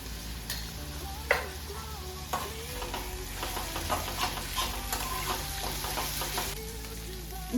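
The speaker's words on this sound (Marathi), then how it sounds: "कांद्यासोबत चांगलं परतून घेऊया।" Onion with chopped chilli and garlic paste sautés in a pan for a Vidarbha-style ukadpendi, a close steady sizzle layered with frequent spoon scrapes and clinks against the pan, with no speech.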